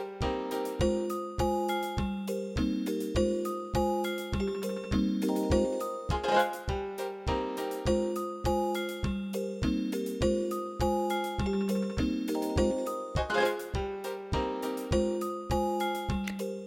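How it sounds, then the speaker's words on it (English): Bell-like tones from a MIDI step sequencer in a tracker setup, with some steps switching back to piano, play a steady rhythmic pattern of bright ringing notes over a pulsing low bass line, loud and continuous throughout. "Steps with FX equals 3 will switch the instrument to the bell, while with FX2 back to the piano."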